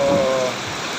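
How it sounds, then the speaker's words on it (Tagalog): A brief, steady wash of heavy typhoon rain hisses loudly and evenly in Baclaran, with a faint tonal hum fading out partway through. "sobrang ng lakas ng ulan"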